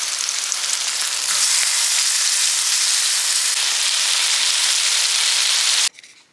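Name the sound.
chicken sausage patties pan frying on medium heat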